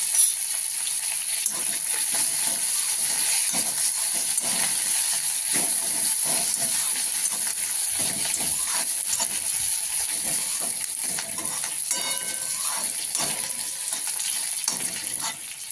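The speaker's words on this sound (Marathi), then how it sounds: "गॅस लहान करूयात आपण कढीपत्ता थोडी कोथिंबीर टाकलेली आहे आपण" Cumin, curry leaves and coriander fry in hot oil on low heat as a tempering for khichdi, giving a continuous loud hiss with faint bubbling and crackle throughout, no speech.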